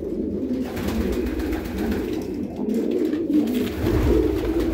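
Several pigeons coo softly and continuously nearby in a loft, their low, overlapping calls filling the enclosed space.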